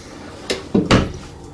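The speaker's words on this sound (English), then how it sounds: "Full extension ball bearing drawer guides." A cabinet drawer on full-extension ball-bearing guides slides and bumps shut in a couple of quick knocks, close by, with no talking, inside a park model RV tiny house.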